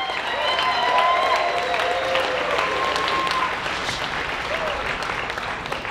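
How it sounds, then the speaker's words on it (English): An audience applauds the taiko group Odaiko Sonora on the main stage of the 2024 Tucson Japanese Festival. The dense clapping runs throughout under a few faint background voices and slowly thins toward the end. "How about another round of applause for Odaiko Sonora?"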